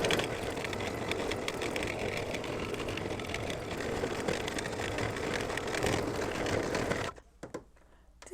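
An embroidery sewing machine stitches an in-the-hoop mug rug, a steady dense mechanical whir with rapid needle chatter running continuously, then stopping abruptly near the end, leaving near silence with a couple of small clicks.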